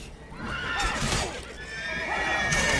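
A horse in the video game Witcher 3: Wild Hunt whinnies loudly in a long shrill neigh, with a second whinny near the end over ongoing game background noise.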